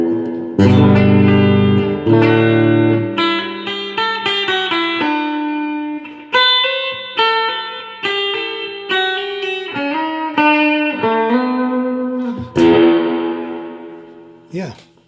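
Electric guitar played through an Electro-Harmonix Epitome pedal with its reverb set very deep, loud picked notes and chords ringing into long, swelling tails with no voice over them.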